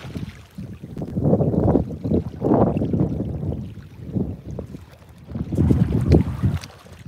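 Gusty wind blows along a seashore by the water's edge, rising and falling in broad swells of low rumbling buffeting against the microphone, with boat-like wash underneath and no talk.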